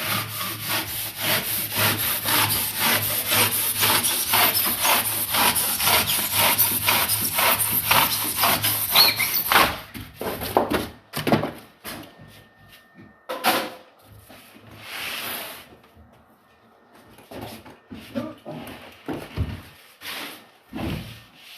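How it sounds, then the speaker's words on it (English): A saw cuts through insulation board beside plasterboard during conservatory plastering, a loud steady run of rasping strokes for about ten seconds, then scattered scrapes, knocks and handling noises. "I'm just going to cut the insulation."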